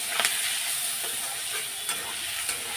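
Spices and chilli powder frying in oil for a Bengali fish curry, a steady close hiss and sizzle with a few light stirring scrapes, no talking.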